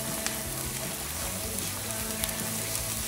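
Chopped onion and grated garlic fry in a pan with a steady, dense sizzle that holds throughout, crackling with occasional sharper pops.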